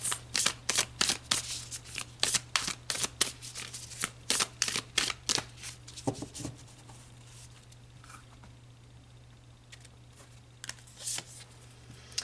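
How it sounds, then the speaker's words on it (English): Tarot cards are shuffled in quick rustling riffles for several seconds, then the handling slows to occasional soft card slides over a low steady hum. "let's pull some more cards"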